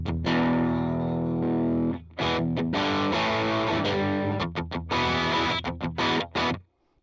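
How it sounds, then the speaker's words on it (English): Electric guitar played through a Tube Screamer distortion pedal into an overdriven amp: a sustained saturated chord rings out, then a run of choppy, palm-muted riffs and stabs that end abruptly in silence. "So I'd consider this a distortion pedal into it, because it's trying to do like an amp channel drive"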